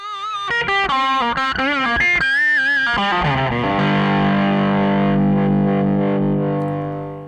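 Electric guitar through a Colby amp's overdrive channel, unboosted, plays a run of distorted notes and chords, then rings out into a long, sustained crunchy chord, loud and close.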